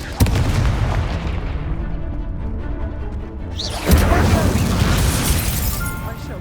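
Fire-spell explosions in the Hogwarts Legacy video game, loud booming blasts with crackling bursts over a busy background, one at the start and a heavier one later, while characters shout over the action.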